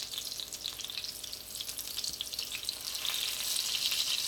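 Italian lemon chicken pieces frying in a pan, a steady close sizzle and crackle that swells louder toward the end, with no voices.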